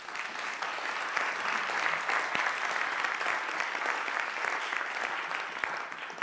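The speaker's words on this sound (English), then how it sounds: "So please, give them another round of applause." A conference audience gives a panel a steady round of applause, dense even clapping from many hands that holds throughout at moderate loudness.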